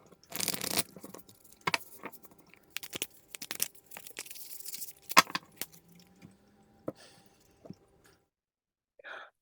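Tarot cards being shuffled by hand for a reading, giving a run of crisp papery riffles, taps and crinkles that come in irregular bursts close up, with quiet pauses between them and no talk over the handling.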